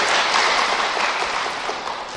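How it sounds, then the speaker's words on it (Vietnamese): Audience applause at a Buddhist dharma talk by a monk: a steady, dense wash of many hands clapping together, loud and sustained throughout, with no voices over it. "Chính xác, vỗ tay lần nữa."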